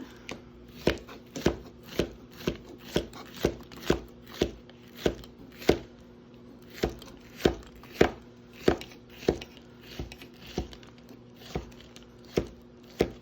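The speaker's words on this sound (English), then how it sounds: "I just slice it down the center like this, and then I kind of line it up and just go for it." A knife slices food on a flexible cutting board, steady rhythmic chops roughly twice a second, close and crisp, with a brief pause midway.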